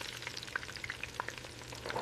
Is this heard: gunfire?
no